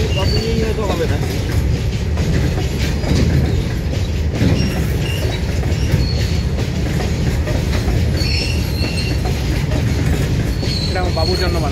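A long goods train passing late at night in Shivpuri, Banaras, during Kumbh: a continuous close rumble of wagons with rhythmic wheel clatter and occasional squeals, with people talking under it.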